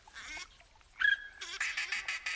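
Ducks call in The Hunter 2017 hunting game at Rougarou Bayou, a few short quacks and honking cries rising over background game ambience, moderately close.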